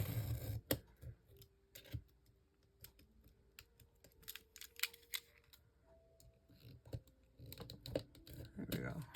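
Scissors cut a long line through old book-page paper, a series of crisp snips and clicks with faint pauses between, close and fairly quiet, with a voice briefly talking.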